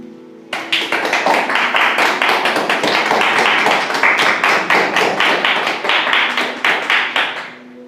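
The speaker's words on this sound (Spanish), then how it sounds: "Vamos a dar un aplauso a Dios." A church congregation claps together in praise, loud rhythmic applause that starts suddenly and holds a steady beat for several seconds before easing.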